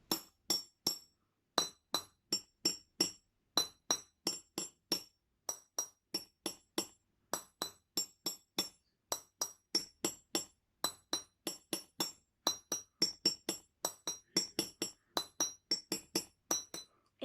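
Drinking glasses are tapped in a repeating rhythmic pattern, producing crisp, bright clinks in groups of three and two, close and clear, with no talking.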